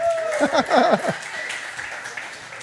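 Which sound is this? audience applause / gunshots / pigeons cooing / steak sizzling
audience applause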